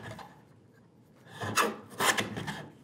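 A hand plane takes a couple of shavings off the edge of a wooden workbench drawer, two quick rasping strokes close by after a soft shuffle, with brief quiet between them.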